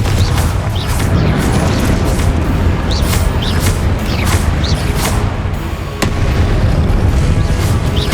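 Confringo blasting-spell explosions in the Hogwarts Legacy video game, loud dense booms and bursts layered over a continuous roaring game soundscape, with no clear pause.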